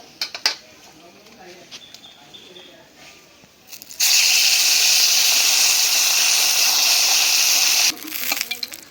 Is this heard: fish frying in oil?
yes